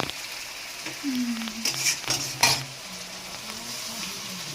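Chicken kosha frying in oil in a pan, stirred with a spatula: a soft steady sizzle with a few louder scraping stir strokes near the middle, close by and moderately quiet.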